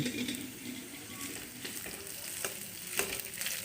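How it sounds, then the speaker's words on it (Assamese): Cooked rice being stirred in a pan while frying for Assamese khar bhat, with a soft continuous sizzle under occasional scraping and clinking strokes of the spatula, close and fairly quiet with no talking. "মই এতিয়া ভাতখিনি দি দিম আৰু এতিয়া ভালদৰে লৰাই দিম।"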